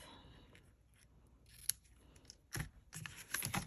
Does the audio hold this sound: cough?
no